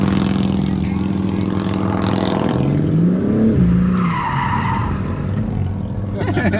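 A car engine spins up and revs, rising in pitch before settling, with tire-like squeal and a passing vehicle whoosh near the end, under someone talking.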